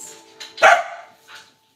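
Large pet dog in a home kitchen gives a single sharp close bark amid brief softer vocal noises, with a person talking around it.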